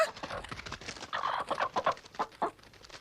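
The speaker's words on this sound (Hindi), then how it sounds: "मेरे अंडे में से चूजा निकला" A newly hatched cartoon chick chirps in quick, repeated high peeps, close and bright, in an uneven run of short calls with no talk over it.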